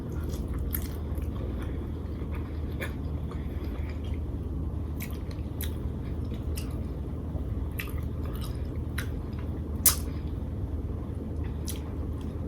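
Someone bites and chews lobster tail dressed in seafood sauce, with soft wet squishes and scattered sharp crunchy clicks close to the microphone over a low steady background hum.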